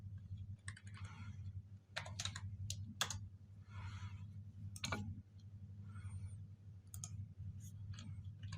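Keys clatter on a computer keyboard in short bursts and single clicks, fairly close, with a steady low hum in the background and no talking.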